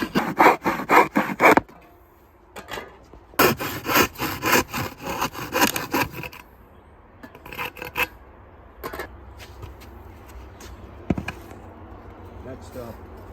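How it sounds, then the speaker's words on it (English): A handsaw rasps back and forth through wood in quick strokes, loud and close, pausing between bursts while a person talks in the quieter gaps. "it's easier to keep the saw steady as you make your cut."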